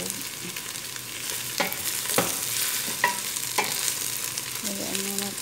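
Chicken pieces for maqluba sizzle steadily in a hot pan, with several distinct scrapes and knocks of a utensil as they are stirred and turned, close and fairly loud with no talking.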